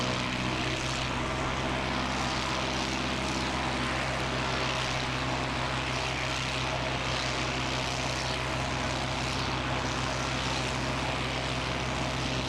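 An airliner arriving from Auckland makes its final turn on approach to Christchurch Airport, giving a loud, steady engine roar that fills the whole stretch without a break.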